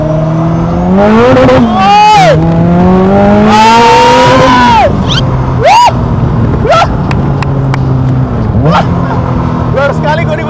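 A Caterham sports car engine revs up and down in repeated rising and falling sweeps, loud and close, with voices talking over it at times.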